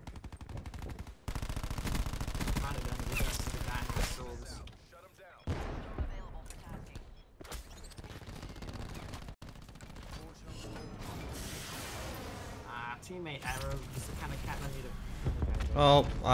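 Rapid-fire dual pistols shooting in a first-person shooter game, fast mechanical rattling bursts broken by brief pauses, with a voice talking over the gunfire.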